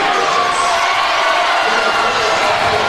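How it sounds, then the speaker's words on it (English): A volleyball crowd cheers loudly for Delano during a Section 6AAA championship match, a dense, continuous roar of voices filling the gym for the whole moment. "Their crowd is pretty fired up."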